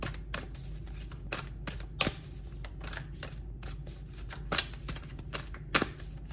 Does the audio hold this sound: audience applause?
no